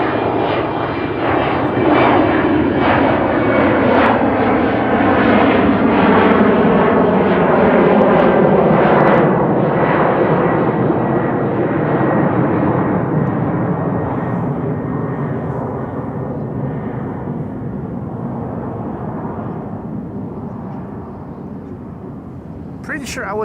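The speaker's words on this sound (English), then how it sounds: "Pretty sure I was hearing propellers somewhere over there." A propeller aircraft at Amsterdam Schiphol Airport drones loudly, nearby with a throbbing engine tone that slowly fades as it moves away, with someone talking over it.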